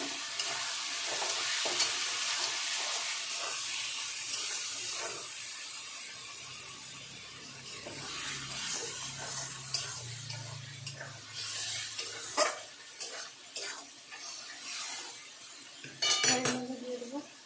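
Chicken sizzles and fries in a pan after marinade water spiced with cumin, coriander and chili powder is poured in, with steady hissing broken by stirring and clinks of a utensil against the pan.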